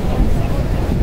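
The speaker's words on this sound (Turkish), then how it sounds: "Rüzgar da var, hafif." Light wind at an outdoor spot in Mecca around sunset, a brief low rumbling gust buffeting the microphone, loud and close throughout.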